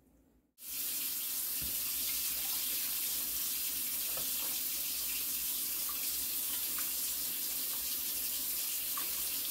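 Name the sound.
water being poured into pot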